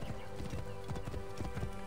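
Quick rhythmic clip-clop of horse hooves close by in the video game Assassin's Creed Origins, several steps in a short burst, with a faint whinny mixed in.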